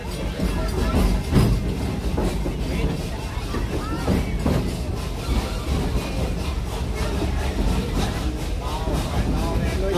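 Serengeti Express train rolling through Busch Gardens Tampa, with a steady rumble and rail clatter running the whole way while a voice narrates over it.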